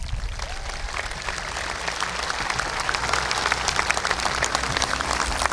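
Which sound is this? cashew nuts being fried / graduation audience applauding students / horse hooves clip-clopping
graduation audience applauding students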